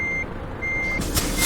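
Truck reversing alarm in Euro Truck Simulator 2, driving a Volvo: two steady electronic beeps over a low diesel engine rumble, followed by a brief hiss near the end.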